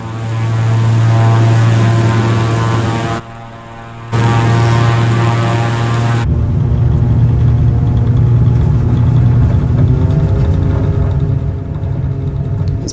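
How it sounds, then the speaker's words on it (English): Propeller airplane engine in Microsoft Flight Simulator 2020, near an in-game speedway, roars steadily at takeoff power with a strong low drone, briefly dropping and returning before settling into a broader, rougher roar as the run continues. "Let's take off here."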